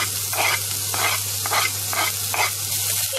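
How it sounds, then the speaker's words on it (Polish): Onion and sliced cold cuts fry in hot ghee with a steady sizzle, broken by regular scraping stirs roughly every half second, close and alone over a faint low hum. "Na rozgrzany tłuszcz dodaję cebulkę oraz pokrojoną wędlinę."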